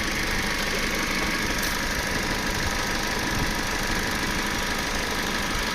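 A 2010 Hyundai i10 with automatic transmission idles steadily close by, a continuous even engine hum with faint knocking texture and no voices over it.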